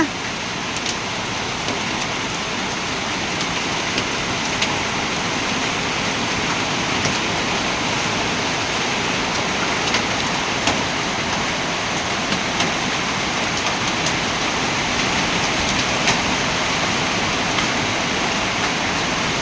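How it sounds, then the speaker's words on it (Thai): Loud steady rain from a summer storm drums on a roof, with scattered sharp ticks and pops of hail hitting the surface throughout. "มีลูกเห็บตกด้วยนะคะ"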